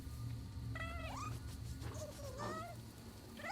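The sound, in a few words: cat meowing in the video game Nioh 2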